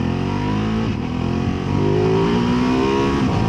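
A Ducati Multistrada V2S motorcycle engine pulls hard under acceleration, loud and close with a rising, rich exhaust tone and a brief dip as it shifts gears, with no talking.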